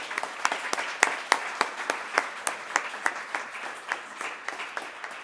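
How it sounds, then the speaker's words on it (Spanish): Applause at a mental health forum in a legislative hall, sparse and uneven, with distinct individual claps standing out sharply over a thinner background patter from a modest audience. "Un aplauso ahora para todos ustedes."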